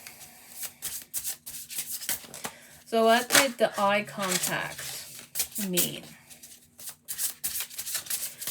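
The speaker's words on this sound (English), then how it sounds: "I just need to shuffle for you guys." Tarot cards shuffled by hand during a reading, giving a run of soft riffling and rubbing bursts under a woman's speech.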